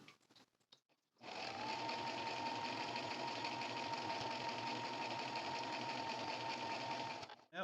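A sewing machine runs at a fast, steady whir while stitching a drawstring bag, close and continuous for several seconds after a few light handling clicks, then stops.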